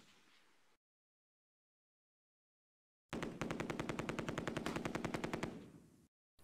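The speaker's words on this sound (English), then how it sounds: "The MG42 opens up." An MG42 machine gun in the wargame Close Combat fires one sustained burst of about three seconds, a rapid, loud, evenly spaced rattle of shots that follows a stretch of silence and then stops abruptly.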